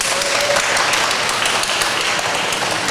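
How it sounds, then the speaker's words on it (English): Audience applause for a panelist being introduced at a blockchain panel discussion, a steady dense wash of clapping filling the room throughout without letting up. "please give a warm round of applause for Helen Liu"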